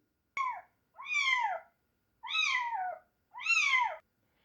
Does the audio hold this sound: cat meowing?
yes